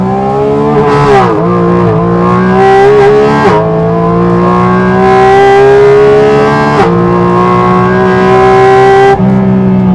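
Porsche 718 Cayman GT4RS engine accelerating hard, loud and close, its pitch climbing through several gears with sharp drops at each shift, no talk.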